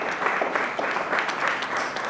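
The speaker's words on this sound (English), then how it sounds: "Let's give them a big round of applause." Steady applause from an audience at an agritech challenge event, a dense wash of many hands clapping continuously and fairly loud throughout.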